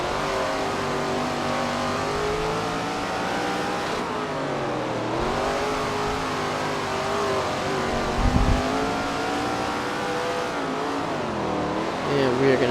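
Race cars in the SRX The Game video game roar around a Madison Lake oval, engines revving and shifting with overlapping passes and a brief tire squeal, while a commentator talks throughout.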